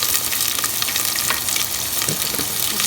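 Onions frying in a pan, a steady close sizzle with occasional stirring scrapes and no talk.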